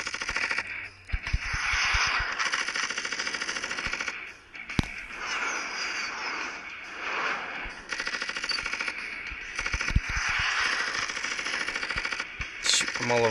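Rapid machine-gun fire from a fighter jet in the video game Air Combat, continuous staccato bursts over a droning engine and game sounds, loud and up close, with a voice talking over it.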